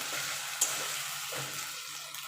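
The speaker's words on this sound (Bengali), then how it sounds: "এবার আদা রসুনটা দিয়ে একটু ভালো করে এটাকে কষিয়ে নেবো যতক্ষণ আদা রসুনের কাঁচা গন্ধটা চলে না যাচ্ছে" Ginger and garlic sizzle steadily in oil in a pan over low-to-medium heat for a cabbage curry with fish head, with a few faint stirring scrapes under the constant hiss and no talk.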